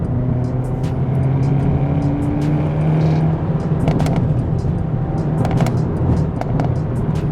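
A stock Hyundai Elantra N drives under load, its engine drone steady and close, with sharp crackling exhaust pops bursting in clusters over the second half.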